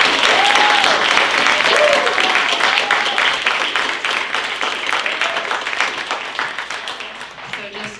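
An audience at a community housing summit in a meeting room applauds, a dense burst of many hands clapping that starts strong and slowly tapers off.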